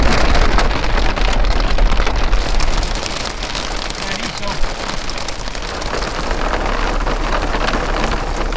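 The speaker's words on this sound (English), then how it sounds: "we got the monsoons hitting right on us. We got hail, lightning, thunder, and torrential downpour." Heavy monsoon downpour in New Mexico back country with hail, a loud dense hiss of rain hammering surfaces, low rumbling thunder underneath and a single sharp knock partway through, with no voices.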